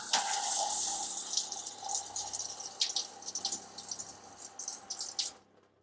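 Antifreeze runs from a camper faucet during winterizing, a steady close splashing stream into the sink with a few drips, then the flow stops abruptly near the end.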